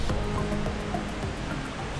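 Water of the Buna spring river rushes steadily beside a cliffside dervish monastery at Blagaj, a broad continuous wash that stays loud and even throughout with no voices.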